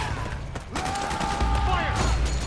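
Rapid gunfire rattles in Metal Gear Solid 4 during a mansion firefight. Bursts of shots run continuously under a shouting voice and other battle noise.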